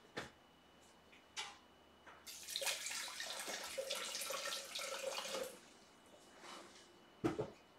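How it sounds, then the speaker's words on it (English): Water is poured into a Thermomix TM6 bowl of white sugar, a quiet trickling splash lasting a few seconds, framed by soft clicks and handling noises before and after. "And adding a bit of water."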